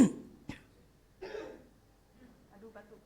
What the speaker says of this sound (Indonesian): Aduh batukku.